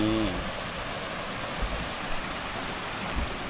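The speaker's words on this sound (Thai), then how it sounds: "ผมก็จะพามาชมน้ำตกสวยๆนะ" A forest waterfall and flowing stream give a steady, loud broadband rush of water, continuous throughout with no talking.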